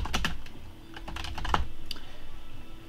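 Typing on a computer keyboard, a close run of quick clicking keystrokes in uneven bursts over a steady low hum, with no talking.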